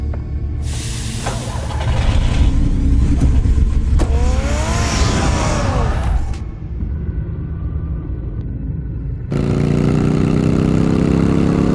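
Car engine in the Batman video game, a steady mid-pitched running drone with a rising whine midway, cutting off briefly and then resuming louder near the end.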